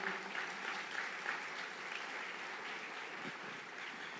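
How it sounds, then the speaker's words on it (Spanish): A church congregation applauds loudly and steadily, a dense wash of clapping from a crowd that holds for several seconds without a break. "Dale un fuerte aplauso de gloria."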